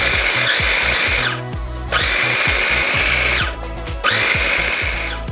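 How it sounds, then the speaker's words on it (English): A blender whirring salsa ingredients, tomatoes and cilantro among them, in loud, steady bursts, three pulses of high-pitched motor whine separated by short drops, close and without talk. "Blend everything together."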